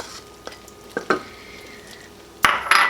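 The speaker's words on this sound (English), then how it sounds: "you're going to add 2 tablespoons of heavy cream. And it's going to bubble like crazy." Heavy cream poured into hot pecan pie filling in a pan bursts into sizzling, bubbling hiss, with a few clinks of a utensil against the pan before the loud surge near the end.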